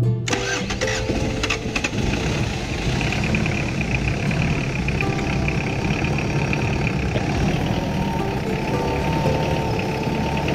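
A car engine cranks and catches at once, then runs at a loud, steady idle close by for about ten seconds, with no voices over it.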